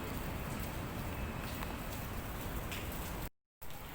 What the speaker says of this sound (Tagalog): Medyo lumalakas na rin ang ulan